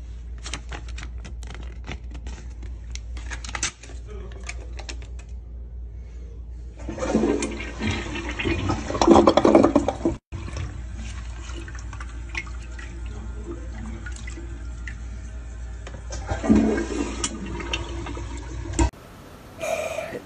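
A household toilet flushing, a long rushing swirl of water that swells and drains, followed by tank refilling and trickling, loud and close with no speech.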